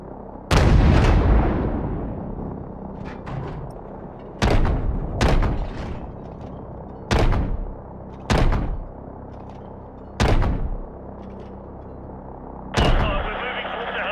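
Heavy cannon fire from an AC-130 gunship in Call of Duty: Modern Warfare Remastered, with about seven loud booming shots spaced a second or two apart over a low rumbling background.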